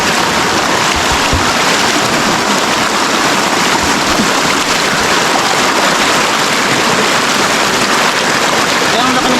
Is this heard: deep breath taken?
no